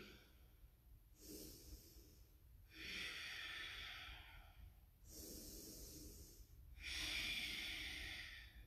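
Deep, steady breathing during a yoga power flow: four long, airy breaths alternating inhale and exhale, each a few seconds, close and quiet with no talk over them.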